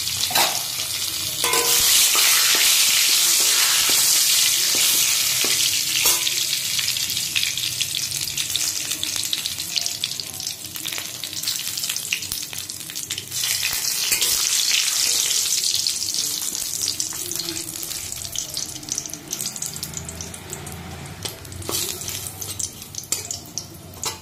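Chicken fried rice with vegetables being stir-fried in a wok: steady sizzling with scraping and tossing of a spatula against the pan, continuous and close, with occasional clinks and no talking.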